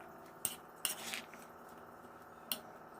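A spoon mixes boiled, lightly salted sprouts in a bowl, giving a few sharp clinks against the dish and a soft squelching stir, quiet and close.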